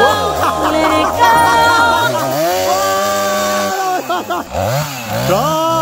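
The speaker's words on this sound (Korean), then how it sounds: "자, 전기톱으로 이제" A chainsaw cuts down into lake ice, its engine whining loud and close with shifting pitch as the blade bites and revs, with brief excited voices over it.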